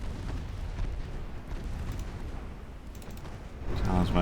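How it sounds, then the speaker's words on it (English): The warship Talisman blows up in a naval video game battle, producing a deep, rumbling explosive roar with crackling debris, swelling louder toward the end. "Talisman exploding"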